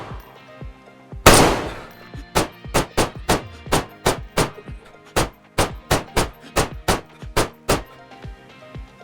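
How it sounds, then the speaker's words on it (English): Scar H battle rifle chambered in .308 with a 30-round magazine, fired in a zombie video game: one loud opening blast followed by about sixteen evenly spaced, sharp semi-automatic shots, close and clear with no talking. "coming up with a Scar H. Chambered in 308. It's got a 30 round magazine next."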